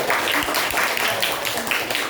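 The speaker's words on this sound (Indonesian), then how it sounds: "terima kasih kepada kelompok 5. Oke, tepuk tangan." A classroom group claps together in a short burst of steady, fairly loud applause lasting about two seconds, with no talking over it.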